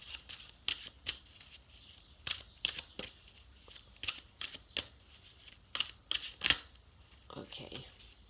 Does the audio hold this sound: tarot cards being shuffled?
yes